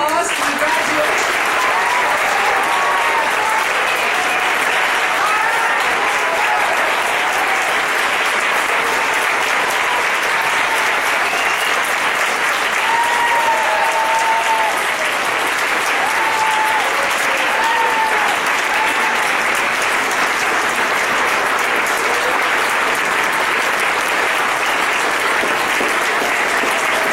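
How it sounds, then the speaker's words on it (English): A large audience at a graduation-style ceremony gives a long, steady round of applause, loud and continuous throughout, with faint cheering voices mixed into the dense clapping. "Let's have one last round of applause."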